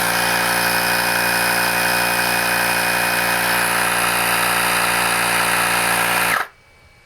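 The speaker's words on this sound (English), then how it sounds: "it makes a fair amount of noise. It's a little tiny air compressor." A VOGMA portable mini air compressor runs with a loud, steady motor buzz and whine close by, then cuts off abruptly near the end, leaving quiet.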